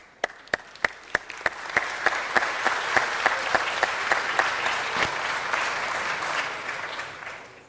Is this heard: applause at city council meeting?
yes